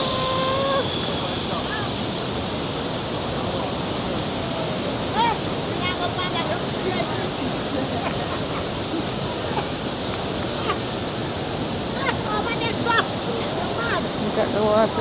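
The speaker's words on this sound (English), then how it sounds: "that's the falls" YS Falls waterfall in St Elizabeth, Jamaica, running brown after rain, a steady broadband rush of falling water heard close, with people talking faintly over it.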